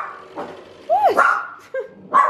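A dog barks and yips close by, a few short sharp barks with a whiny rising yelp between them, loud and alone without talk.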